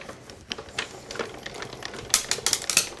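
A die-cutting machine rolls cutting plates through for a gilded, beaded greeting card, giving a close run of crisp clicking, grinding mechanical bursts that grow louder and busier toward the end, with no talking.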